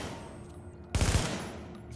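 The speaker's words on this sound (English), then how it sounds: "we're gonna see the initial shot now" A single heavy gunshot burst from a Nomad crit-chance build in an online shooter game erupts loud and close after a quiet lead-in, with a brief rumbling tail.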